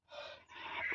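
Two quick, breathy gasps for air in succession, close and fairly soft, from a man acting out heavy panting during a comedy sketch shoot.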